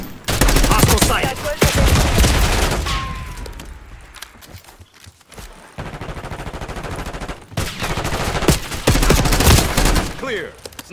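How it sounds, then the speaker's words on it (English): Enemy sniper fire in Call of Duty Black Ops 6: loud, close gunshots crack in dense bursts, break off into a quieter lull in the middle, then resume in rapid volleys. "Enemy sniper shooting!"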